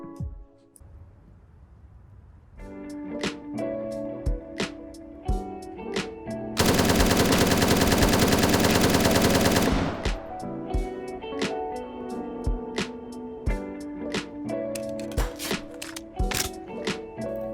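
Full-auto rifle fire from the shooter Zero Hour: Operation Black Dawn, with an M4 and a SCAR among the weapons: sharp repeated bursts and one long sustained roar of rounds, loud and close with ringing echoes.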